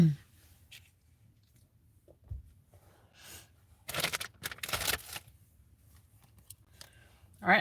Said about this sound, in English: I'm going to shuffle first, Dane, before I start the timer.